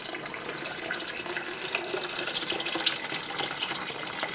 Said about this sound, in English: Pour in my water that was just boiling to I think it's about an inch over it.